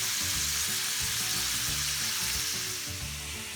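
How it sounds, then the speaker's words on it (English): Ground meat browning in a frying pan for shepherd's pie, a close, steady sizzle and crackle with faint scraping of stirring throughout. "Now we're browning the meat."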